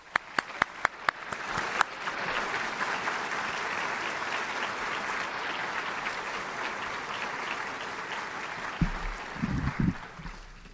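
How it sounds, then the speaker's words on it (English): A few sharp individual claps open, then swell into sustained, full audience applause for graduates at a university engineering graduation ceremony, continuing steadily before a few louder bumps and handling noises near the end. "I'd like to ask you to give a round of applause as we recognize our graduates"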